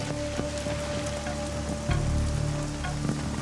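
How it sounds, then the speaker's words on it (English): Rain falls steadily in East Timor, a dense hiss of drops on surfaces with a few louder splashes and a low rumble partway through, no voices. "for them the rain is a blessing, but it also has a downside."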